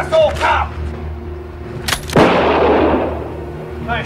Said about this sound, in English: So he shoots at the other partner.